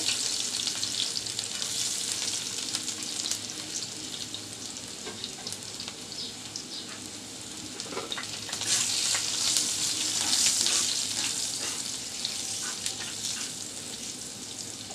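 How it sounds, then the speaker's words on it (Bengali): Whole dried red chilies and chopped garlic frying in oil for a chana dal dish, a continuous close crackling sizzle that swells louder midway, with scattered stirring scrapes. "গোটা শুকনো মরিচ দিয়ে দিচ্ছি মরিচগুলো ভাজা হয়ে গেছে দিচ্ছি চার পাঁচটা ফুট রসুন কুচি"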